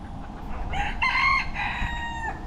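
A rooster in the Florida Keys crows one full, drawn-out call close by, with faint clucking from hens around it and no talking.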